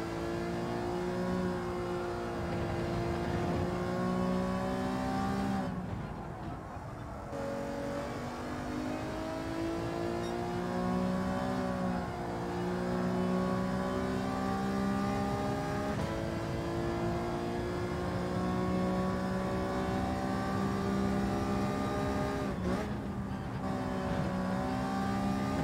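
A race car engine in a sim racing game at Suzuka Circuit drones steadily and loud throughout, its pitch rising and falling through revs with brief dips at upshifts, no talk.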